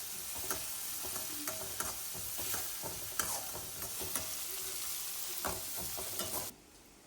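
Goat brain roast sautéing in a pan with onion and green chili, a steady close sizzle of frying with repeated scraping stir strokes, alone without talk.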